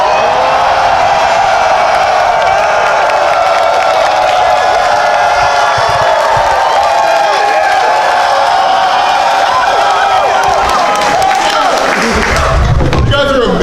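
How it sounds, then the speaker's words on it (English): A convention panel audience at New York Comic Con cheers as loud as it can, a sustained roar of voices and whoops filling the hall, ending with a thump and a burst of noise near the end. "I want you guys to like cheer as loud as you can"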